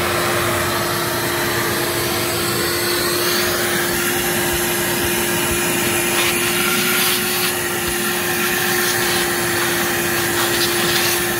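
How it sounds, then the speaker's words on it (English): A vacuum cleaner runs steadily and loudly throughout, cleaning the interior of a 2013 Mercedes SL550 around the cabin air filter area, with a constant motor whine and no voices. "Please keep everything vacuumed and clean."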